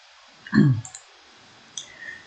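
A computer mouse clicks once on a download link on a software developer's website, a crisp close tap followed by a couple of much fainter clicks.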